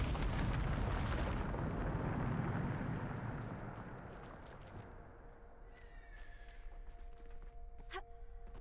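A Bombarda spell explodes in the Hogwarts Legacy video game: a loud broadband blast at the start decays over several seconds into a low rumble, with a few later tones and small impacts.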